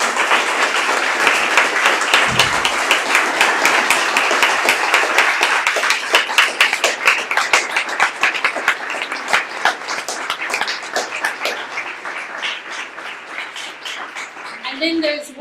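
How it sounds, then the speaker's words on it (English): Conference audience applauding steadily for the technical helpers, dense clapping that carries throughout and thins slightly toward the end, with some voices mixed in. "all of you stand up, please, for a round of applause"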